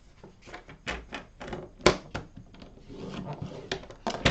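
Paper being scored on a scoring board for a gift card holder, a series of short dry scraping strokes with irregular rhythm, close and fairly loud, with no talking.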